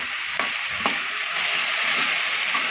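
Tomatoes fry in a pan for a tomato chutney with a loud, continuous hissing sizzle, broken by a couple of brief stirring clacks near the start, and no one speaks.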